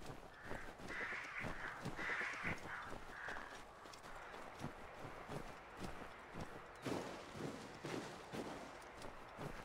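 Crows caw repeatedly in the Assassin's Creed 3 game world, harsh calls in bursts over a steady ambient bed, mixed with clip-clopping hooves and footsteps.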